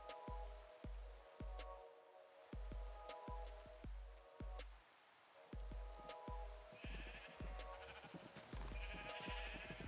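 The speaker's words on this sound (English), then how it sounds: "let's make sure every sheep here is where they're supposed to be" Sheep bleat repeatedly in a Minecraft game, short synthetic baa calls coming one after another in a steady irregular series, fairly close and clear, with small game sound effects between them and no talk.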